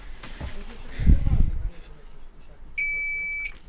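A multimeter on continuity test gives a single short, steady high beep while solar panel wiring is checked on a VW T4 camper van. A brief low voice and handling sounds come first.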